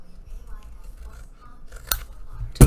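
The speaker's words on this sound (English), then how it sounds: "We're going to cut along that straight line to there, and then we're going to come in and miter this, taking off that sliver" Scissors cut paper to shape a gift bag, giving faint soft snips under room noise, with a sharper snip near the end and a loud close clack right at the finish.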